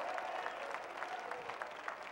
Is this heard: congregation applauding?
yes